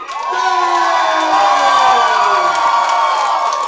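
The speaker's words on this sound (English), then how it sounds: "The crowd going wild for Silky Baines." A professional wrestling crowd cheers wildly for heavyweight champion Silky Baines, a loud, sustained roar of whoops and shouts that rises and holds throughout.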